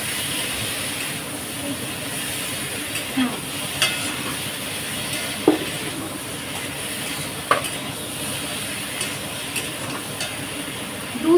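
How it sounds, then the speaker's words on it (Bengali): Mustard seeds fry with a steady hiss in a pan and are stirred now and then, with a few sharp scrapes and clinks of the spoon against the metal. "একটু সর্ষেটা নাড়িয়ে নিচ্ছি"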